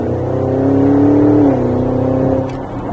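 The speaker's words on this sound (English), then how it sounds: "A little bit of an acceleration phase here, just to see the acceleration rise and hear the engine note." A 2021 Porsche Cayenne GTS engine pulls hard under acceleration from inside the cabin, its rising note sweeping upward, dipping briefly at a shift, then settling into a steady drone.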